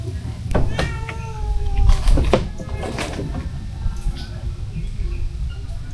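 A pet cat meows several times in short, clear calls near the start, then quieter mews follow over faint background noise and shuffling.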